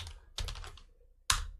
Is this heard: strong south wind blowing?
no